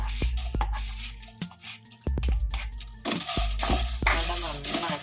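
Rice ada pieces dropped into hot ghee in a pan for palada pradhaman, giving bursts of sizzling and frying with clinks and scrapes of stirring, close and fairly loud.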